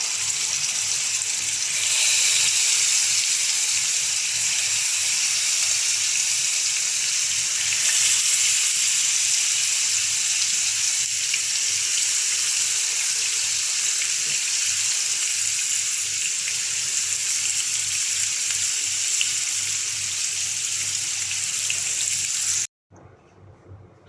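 Chicken pieces frying on high flame in a few spoonfuls of hot oil in a pan give a loud, steady sizzle that holds for over twenty seconds, then cuts off abruptly.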